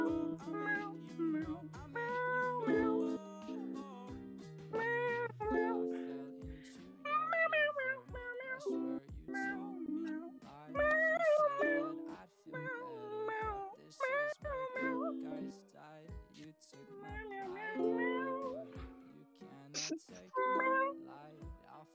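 A musician imitates a cat with his voice, producing a long series of varied, drawn-out meows with rising and falling pitch, separated by short pauses and clicks.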